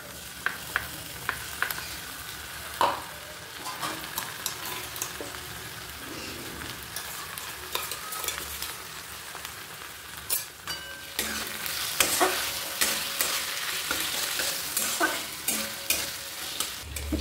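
Spice masala of garlic, ginger, chili, cumin powder, tomato and Kashmiri red chili powder fries in a pan over high flame. A constant sizzle sits under repeated sharp stirring scrapes and clicks that grow busier toward the end.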